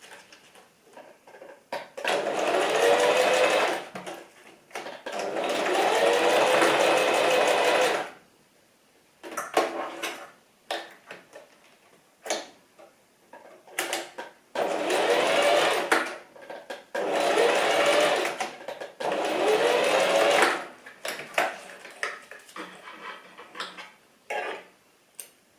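A sewing machine sews a few straight stitches across elastic on an oversized fabric scrunchie. The motor runs in several steady whirring bursts of a few seconds each, with short pauses and light clicks and handling noises between runs.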